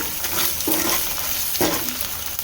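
Masala spices frying in oil in a pan while being stirred, a steady broadband sizzle with a couple of scraping stirs of the spoon, close and continuous with no talking.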